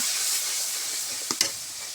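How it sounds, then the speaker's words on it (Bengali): A spice mix with a little water sizzles hard in a pan, a continuous close hiss broken by two quick sharp scrapes of a spoon near the end. "একটু ভালো করে কষাই নেব।"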